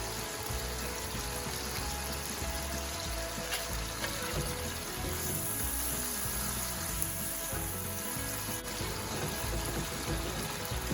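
Tomatoes go into a hot frying pan during home cooking, giving a steady, continuous sizzle and crackle of frying at close range that holds even throughout, with no talking.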